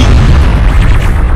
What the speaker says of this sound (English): It's beautiful, the explosion, isn't it?